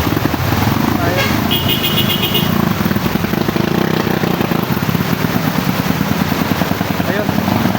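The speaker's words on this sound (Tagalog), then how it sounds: "mamamatay na yata yung motor na yan" A motorcycle engine labors through deep floodwater outside a home, close to stalling, its rough, steady drone persistent under constant ambient noise while people talk over it.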